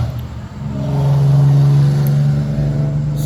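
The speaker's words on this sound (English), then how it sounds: "somebody just took a BMW M3 and made it obnoxious" A loud, obnoxiously modified BMW 3 Series car revs its engine as it passes close by, the exhaust drone rising to a peak and then easing off.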